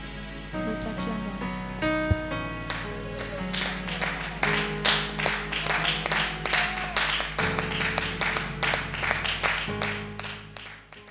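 A church congregation at a Sunday service claps steadily in rhythm over a sustained organ or keyboard chord, the applause bright and continuous throughout.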